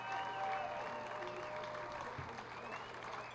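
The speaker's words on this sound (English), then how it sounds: "Gets a round of applause from this crowd" A crowd at a minor-league baseball game in Green Bay applauds a pitcher's no-hitter, steady distant clapping with some crowd noise and a faint voice over it.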